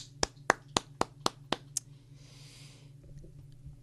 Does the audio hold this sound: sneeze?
no